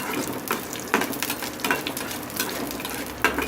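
Crushed shallots and mustard seeds frying in oil for beetroot chutney, a close, steady sizzle broken by soft periodic stirring scrapes, no voices.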